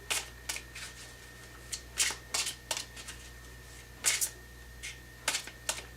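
A tarot deck being shuffled by hand, with sharp, close riffling bursts of cards that come in uneven clusters over a quiet background hum, no voices.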